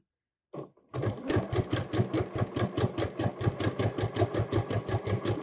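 Sewing machine back-stitching fabric while attaching a pocket to Tamiko pants: after a brief bump and pause, a steady rhythmic run of quick needle strokes, close and even, continuing throughout.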